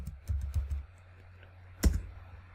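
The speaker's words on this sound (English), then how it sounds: "I'm going to type in here nano." Keystrokes on a computer keyboard in a Linux terminal, a quick run of several close, light clicks followed by a pause and one louder tap near the end.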